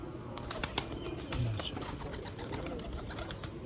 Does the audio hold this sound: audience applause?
no